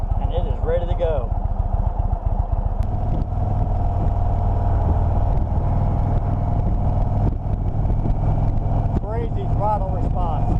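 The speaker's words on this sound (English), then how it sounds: "A little twist on the throttle, and it is ready to go" An Indian motorcycle engine idles with a loud, rough, throbbing tone, then surges as the throttle is twisted and settles again. The rider's voice briefly overlaps it at the start and end.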